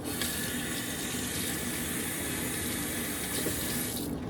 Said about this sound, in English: Then I take it apart and then rinse both of these.